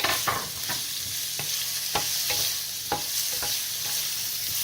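Carrots sizzling steadily in a hot pan for a gluten-free potato lasagna, with a series of distinct stirring scrapes and clicks about every half second over the frying hiss, close and fairly quiet.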